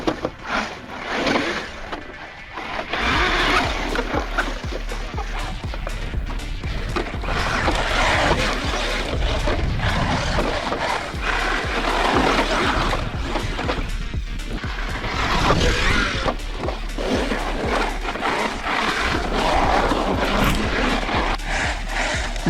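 A Kyosho Toyota Tacoma RC truck drives and jumps across loose sand, with a loud, gritty, scrabbling rush of tires and motor whine broken by thumps and crunches as it lands, all close and continuous.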